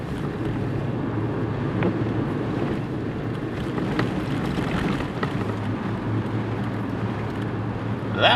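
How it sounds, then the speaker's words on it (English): Strong wind gusting across a microphone on a stormy North Carolina coast between beach houses, a continuous low rumbling buffet that swells slightly, with no voices. "That wind gust made me go sideways a little bit."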